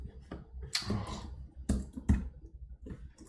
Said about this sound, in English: What is with this cardboard keyboard